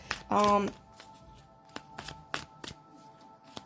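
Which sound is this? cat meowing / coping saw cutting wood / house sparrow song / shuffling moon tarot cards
shuffling moon tarot cards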